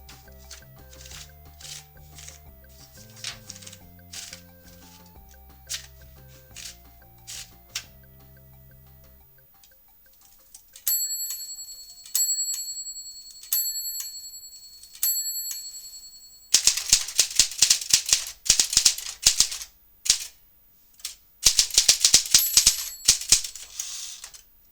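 A Sears Citation 88 typewriter during a typing test, with rapid sharp key strikes and clacks in bursts, a bell ding, and dense clattering runs of typing near and loud, without speech.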